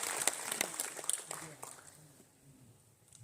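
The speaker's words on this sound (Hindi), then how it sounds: "एक बार हमारी कंपनी और प्रोडक्ट्स के लिए जोरदार ताली होना चाहिए।" An audience at a company leadership program in Guwahati claps in quick bursts that fade out within about two seconds, leaving quiet room tone.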